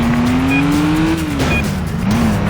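A car in the PS2 game Stuntman pulls a 180 handbrake turn, its engine roaring loud and close as the tires squeal in a long rising then falling skid.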